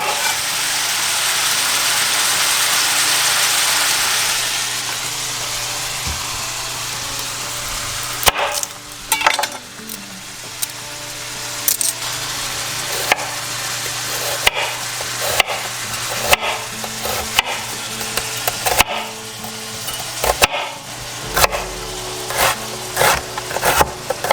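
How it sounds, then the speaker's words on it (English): An onion is chopped on a wooden cutting board in a kitchen where venison stew is cooking, with a series of sharp, close knife knocks coming irregularly over a steady frying sizzle, and no one speaking. "go ahead and chop up our onion"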